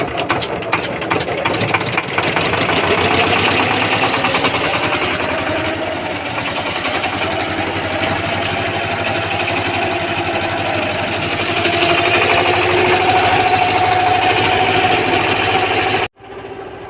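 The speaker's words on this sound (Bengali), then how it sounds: "তো বন্ধুরা আমাদের ইঞ্জিন স্টার্ট হয়ে গেছে, আমরা আস্তে আস্তে চলে যাচ্ছি মূল নদীতে" A boat engine runs loud and close on the Hooghly river, holding a steady rapid chugging throb for about sixteen seconds before cutting off abruptly near the end.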